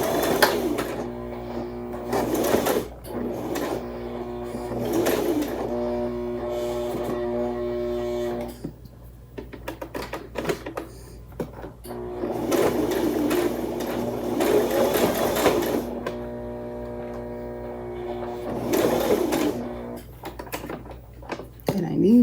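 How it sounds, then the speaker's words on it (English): A sewing machine runs a zigzag stitch through coiled rope to form a basket, its steady mechanical whir going in long bursts with brief pauses while the work is turned, with talk heard between runs. "And continue sewing."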